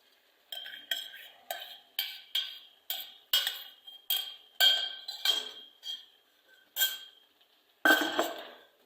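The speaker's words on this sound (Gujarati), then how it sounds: "હવે આપણે એમાં બાફેલા શાકભાજી નાખી દેવી" Boiled vegetables being added to pav bhaji gravy in a pan, heard as a series of about a dozen sharp metallic spoon clinks and scrapes against the pan at a roughly regular rhythm, close and clear, with no talking.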